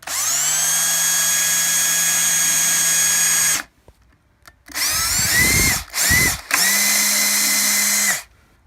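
A power drill whines loudly as it bores into the wood of a cigar box, running steadily for several seconds, then in a few short bursts with brief pauses between them.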